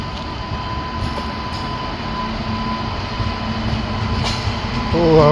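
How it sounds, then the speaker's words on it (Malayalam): A Humsafar Express train pulling out of platform 3 at Ernakulam Junction station, a steady rumbling roll with a faint tonal hum, swelling louder near the end as the wagons pass close. "എറണാകുളം ജംഗ്ഷൻ റെയിൽവേ സ്റ്റേഷൻ 3ാമത്തെ പ്ലാറ്റ്ഫോമിൽ നിന്ന് പുറപ്പെടുകയാണ്"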